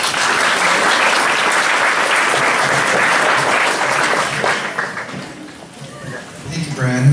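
Audience at a 2017 St. Louis POTS community conference applauds loudly to welcome a speaker, a dense steady clapping that fades after about five seconds as a voice begins speaking.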